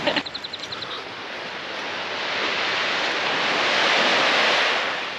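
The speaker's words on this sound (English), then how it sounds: "The pounding waves from the ocean created a tunnel and made this hole in the rocks." Ocean surf pounds into a rock hole at the Mendocino punch bowl on the California coast, a loud roaring wash that builds and swells, opened by a short rapid series of knocking pulses.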